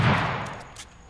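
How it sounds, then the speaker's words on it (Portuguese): Gunfire in the battle-royale game H1Z1 comes as a loud, close burst that decays, followed by a few fainter distant shots. "Eu tô escutando muito tiro aqui já"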